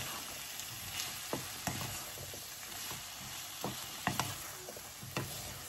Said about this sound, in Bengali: মশলার সাথে এই ভেজিটেবলগুলোরে ভালো মতো মিক্স করছি